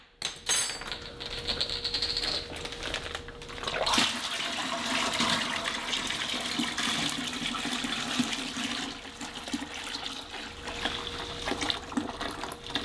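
Reverse-osmosis water runs steadily into a container of grape juice and bentonite for wine making, a continuous close rushing pour that lasts throughout with a brief bump in the flow partway.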